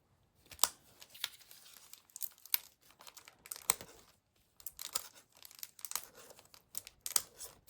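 Die cutting of paper for painted geranium stencil art, heard as a run of crisp crinkling, crunching and snapping bursts, close and moderately quiet, with brief pauses between them and no talking.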